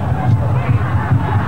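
Tens of thousands of football fans packed into Stadium Perak for the 1997 FA Cup final, Selangor against Penang, producing a dense, steady roar of crowd hubbub with rising swells of cheering.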